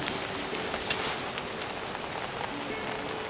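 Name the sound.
heavy rain outside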